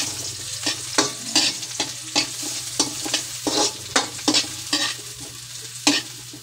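Chopped onion and garlic sautéing in a hot pan, a bright continuous sizzle close up with a rhythmic series of scraping stirs.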